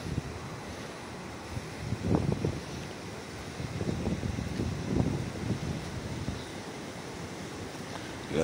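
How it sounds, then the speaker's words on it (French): A roaring river rushes steadily below a roadside descent in farm country, a continuous broad wash of water noise with gentle surges, heard alone without voices. "Tu entends la rivière tonitruante."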